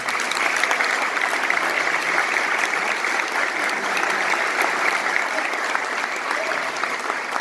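Guests at an anniversary ceremony for a newspaper in San Antonio, Chile, give warm applause for a journalist, a dense, even wash of clapping that holds for several seconds with no voice over it.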